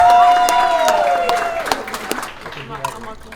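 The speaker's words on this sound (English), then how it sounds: "let's give a round of applause for our beautiful, wonderful students" Audience applause for students at a business academy's 15-year anniversary event, crowd clapping and cheering over a fading musical tone, loud at first then thinning toward the end.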